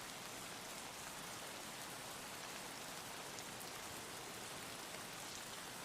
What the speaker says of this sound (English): Let me turn the rain down a little bit.